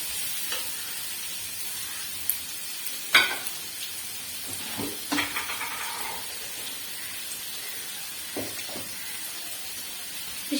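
Chopped capsicum sautés in a pan for beef fried rice, giving a steady close sizzle broken by a few scraping stirs, with no talking.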